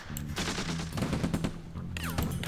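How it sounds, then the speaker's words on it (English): Machine gun fire in a World War II Stalingrad battle game, dense rapid bursts with heavy booming impacts that fill the whole stretch, loud and close, with no talk over it. "We're actually getting decent shots from just the machine gun."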